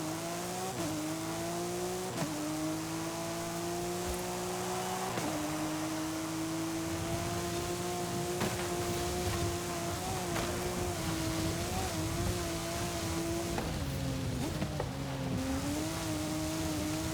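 The Bone Shaker hot rod in Forza Horizon 5 drives hard, its engine holding a steady loud drone that rises in pitch through several gear shifts, with brief tire squeal and dips in revs as it corners, and no voices.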